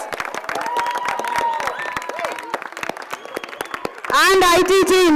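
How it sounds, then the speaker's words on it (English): At an international school event in Hyderabad, the audience gives a round of applause for the teachers: steady crowd clapping with murmured voices, then a loud voice breaks in near the end. "A round of applause for all my teachers."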